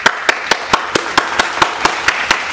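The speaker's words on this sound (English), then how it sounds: "Clap it up." A man claps his hands in a quick, even rhythm, about eleven sharp, close claps in a row, each clean and distinct against a quiet background.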